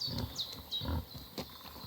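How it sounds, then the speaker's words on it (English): A pig in Kingdom Come Deliverance 2 gives several short, rough grunts at irregular intervals, close by and moderately loud over a quiet outdoor ambience. "Should we try to kill this pig?"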